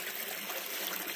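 A gold-prospecting creek near Melbourne flows at a widening stretch, with a close, steady hiss of running water and no voices over it.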